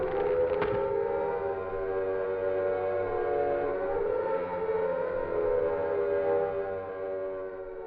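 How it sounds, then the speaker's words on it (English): Sirens in the Silent Hill 1 video game, wailing in long rising and falling tones that overlap and drone on continuously, with a hollow, distant quality and a brief sharp click near the start. "sirens whine in the distance"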